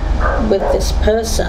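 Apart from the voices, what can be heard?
dog barking next door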